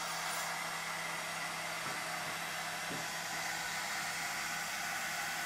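A hair dryer blows onto fabric, running steadily with a loud, even whooshing blast of air, no voices, continuous throughout.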